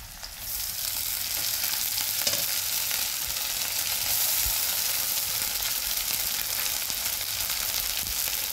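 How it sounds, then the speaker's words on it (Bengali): Garlic, ginger and green chili paste hisses and sizzles loudly in hot oil, a dense steady frying noise from close by that holds evenly throughout with slight stirring. "এবার আমি ওই রসুন বাটা, আদা বাটা আর কাঁচা লঙ্কা বাটাটা দিয়ে দেবো"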